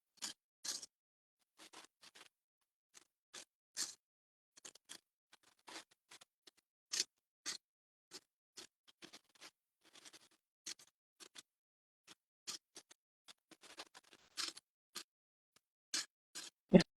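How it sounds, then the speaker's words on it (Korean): Scissors snip crepe paper into flower petals for a giant carnation, a string of short, quiet, crisp cuts at an uneven pace against near silence. "이렇게 가위 커팅 해주시면 돼요."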